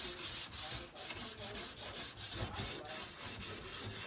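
Close, rhythmic back-and-forth sanding of an S10 truck bedside repair panel with 320 to 400 grit paper, a quick run of even scratchy strokes with no talking.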